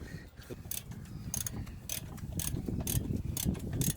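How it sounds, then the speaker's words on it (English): Ratcheting clicks as a wrench tightens rear Brembo brake caliper bolts on a Seat Leon Cupra R, heard as a quick run of sharp, evenly spaced ticks close by with no talk. "Just tightening up those caliper bolts on the back."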